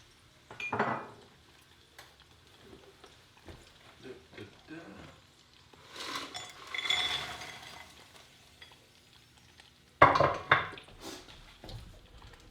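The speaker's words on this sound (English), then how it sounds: "I'm going to plate them up and do the test" Cooked chips being plated onto dishes, with scattered clinks and scrapes of crockery and cutlery, busier bursts midway and near the end, close and moderately loud, with no talk.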